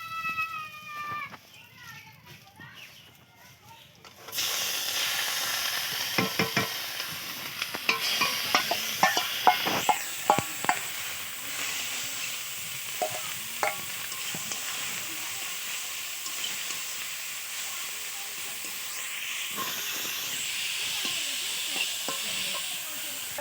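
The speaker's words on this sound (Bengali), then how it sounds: "এবার এটা চিংড়িটাকে ভাজা করব।" Small shrimp (ful chingri) frying in a pan, a steady broadband sizzle that surges loudly after a quieter opening, with scattered clinks and stirring scrapes throughout; a person talks over it early on.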